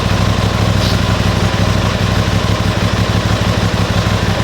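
An Aprilia RS660 motorcycle engine idles steadily and close up after a repair, a continuous low rumble with fine mechanical clatter and no talk.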